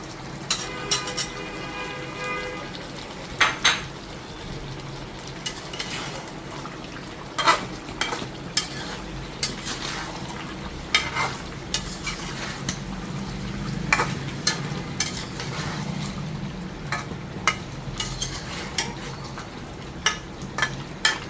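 Beef curry with chui jhal frying in a pot as chopped potatoes go in and are stirred, a steady sizzle and bubbling under repeated clanks and scrapes of a metal spoon against the pan, close and continuous.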